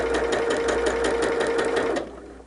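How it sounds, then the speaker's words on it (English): A sewing machine stitches quilt block pieces for a winter snowflake block with a steady, rapid needle rhythm. It runs close and loud for about two seconds, then stops abruptly, leaving a brief quiet with a small click at the end. "So we'll just start stitching."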